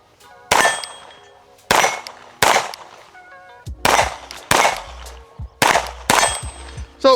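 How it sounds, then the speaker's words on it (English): A Sarsilmaz SAR 724 pistol fires seven loud, sharp single shots at irregular intervals of roughly one second, each crack ringing briefly, with occasional metallic clangs of steel targets at distance. "let's kind of get some shots through this"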